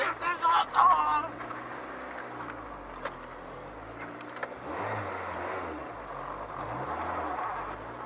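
A 1987 Pontiac Fiero GT with a swapped Honda K20 engine accelerates up through the gears. The engine drones steadily and fairly close, with a brief shift break before it pulls again, under loud rumble and some talk at the start.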